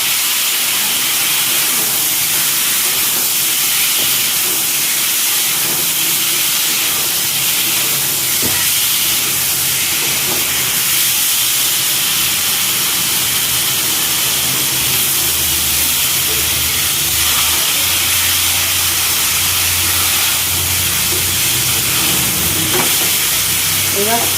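Spice paste for a non-vegetarian dhokar curry hisses and sizzles loudly in a hot pan after water is added, a continuous, close frying crackle with steam throughout.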